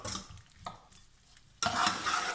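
Onions frying in a pan for a golden curry, a soft sizzle broken by a couple of stirring scrapes, then a louder, fuller hiss as they are moved around.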